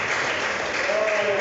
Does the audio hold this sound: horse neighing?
no